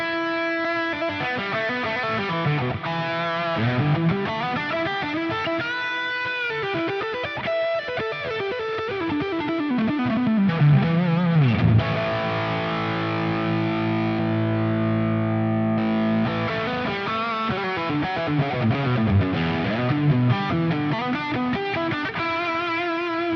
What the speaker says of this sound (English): Whether you prefer the drive tones from those pedals,